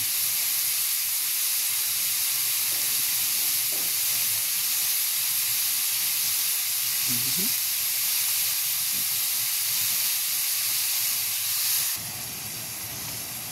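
Broccoli in butter and oyster sauce simmering under a lid in a covered pan, giving a steady, even hiss that drops slightly at the very end.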